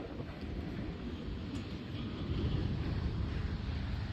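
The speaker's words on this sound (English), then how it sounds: "the wind blowing kind of hard" Hard wind blows outdoors beside a U-Haul trailer while vending machines are moved, a steady loud rushing roar buffeting the microphone without a break and growing slightly stronger toward the end.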